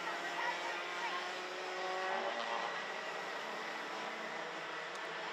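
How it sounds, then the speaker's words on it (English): Racing karts in a senior heat at the Genk circuit, a dense continuous engine drone that holds steady for several seconds at a fairly loud, mid-distance level. "Fastest lap of the race at the moment is Paul Hamburg."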